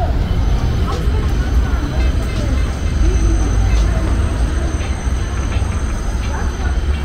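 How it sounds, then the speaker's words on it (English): A massive train rumbles by on an elevated track directly overhead in the Bronx along White Plains Road, a loud, continuous roar of wheels and cars with faint squeals, close and steady throughout. "So massive, the train just literally drive over me."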